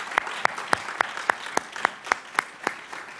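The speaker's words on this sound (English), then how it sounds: "please give them a round of applause for all the work they do" Claps ring out in a hall during a space industry conference welcome. They come as a steady, evenly spaced run of sharp single hits, fairly faint over a soft background murmur.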